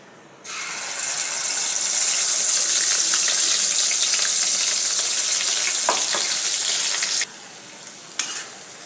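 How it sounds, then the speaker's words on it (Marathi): A loud, steady sizzle bursts in as ground masala paste for sprouted moth bean curry hits hot oil and crackles continuously, with a few soft clinks, then cuts down sharply near the end. "मसाला चांगला परतून घ्यायचा"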